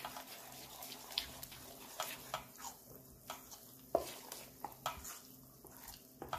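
A spoon stirs batter in a bowl just after a teaspoon of Eno fruit salt goes in, giving repeated soft scraping strokes and light clinks at a steady rhythm against a low hum.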